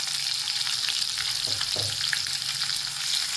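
Chopped onion fries in a pan, a close, steady sizzling hiss with a couple of brief soft stirring knocks midway, no talk.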